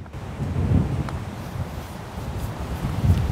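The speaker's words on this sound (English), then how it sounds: "it's so windy" Strong gusty wind buffeting close by on an open golf course, low blustery roaring in uneven surges, with a faint rustle and no talking.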